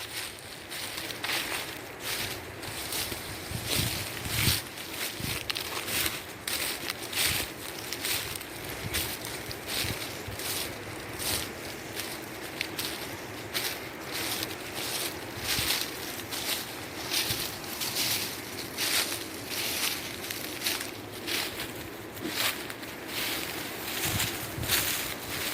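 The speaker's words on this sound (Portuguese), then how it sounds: "Só o banho d'água é gostoso de ouvir" A waterfall pours into a river, producing a steady, full rush of flowing water with a gusty, uneven texture throughout, fairly close and continuous, with no voices.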